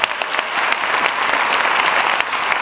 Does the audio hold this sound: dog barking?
no